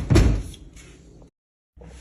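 An Electrolux dishwasher door shuts with one solid thud, followed by a short fading rumble, a moment of silence and then faint room noise.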